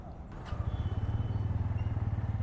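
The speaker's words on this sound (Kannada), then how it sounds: "ಸೊ ಗಾಡಿನ ಸ್ಟಾರ್ಟ್ ಮಾಡೋಣ." A Bajaj Pulsar N160 motorcycle engine starts and settles into a steady, fast-pulsing idle thump, close and even, with no talk over it.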